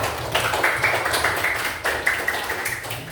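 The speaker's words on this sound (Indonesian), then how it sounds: "Nah, aplaus dulu buat kelompoknya Evan ya." A classroom of fifth-grade students applauds a student group. Steady, moderately soft clapping continues throughout with a few sharper bursts and no talk on top.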